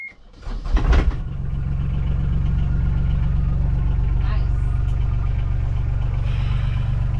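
A sailing catamaran's marine engine cranks and catches, then settles into a loud, steady, rumbling idle close by that runs unbroken to the end, with a faint beep partway through.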